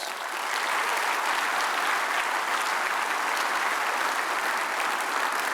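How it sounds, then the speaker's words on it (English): Sustained audience applause fills a large hall at a port authority state-of-the-port address in Savannah, a dense, steady wash of many hands clapping at full volume throughout, with no voices standing out. "That deserves a round of applause"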